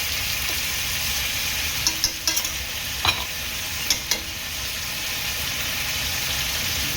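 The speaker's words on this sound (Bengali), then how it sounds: "সুন্দর করে লাল লাল করে ভাজা হয়ে গেছে, দিয়ে দেবো পেঁয়াজ বাটা" Ginger-garlic paste and onion paste fry in a pan with a steady, close sizzle and a few brief stirring clicks, with no talking.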